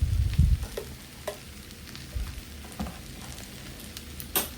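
Dry Kerala-style chicken ullarthiyathu sautéing in oil gives a soft, steady sizzle, with a heavy scrape and clatter of stirring at the start and a few sharper utensil knocks scattered through.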